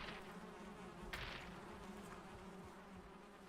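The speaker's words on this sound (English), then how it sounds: "we have found the prophesized bees" Bees in the Valheim video game give off a faint, continuous insect drone that swells briefly as one passes close, with no voices over it.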